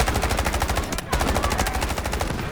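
Rapid automatic gunfire in the first-person shooter Delta Force rattles loud and continuous through the whole stretch, with dense bursts barely pausing near the middle.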